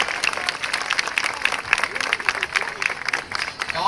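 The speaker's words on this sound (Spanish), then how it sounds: "¡Que se escuchen los aplausos!" An audience at a cultural festival in Palenque claps continuously, with a voice carrying over the applause and a few cheers mixed in.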